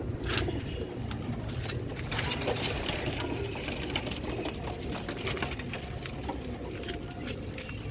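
High flyer pigeons coo softly with low, throaty calls, surrounded by rustling and light fluttering patter nearby.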